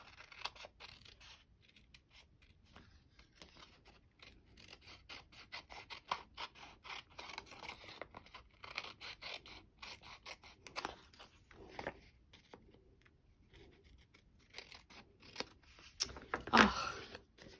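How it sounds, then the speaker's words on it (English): Snips cut paper for a handmade card, a long run of quiet, crisp snips in an uneven rhythm close by, ending with a louder clack near the end. "And then just take your snips."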